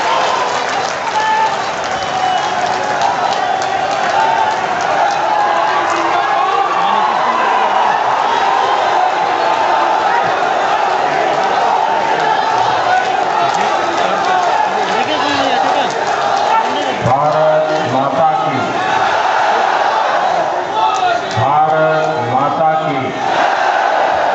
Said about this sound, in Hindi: भारत की एक एक जनता ताली लगाकर स्वागत करें प्रधानमंत्री नरेंद्र मोदी जी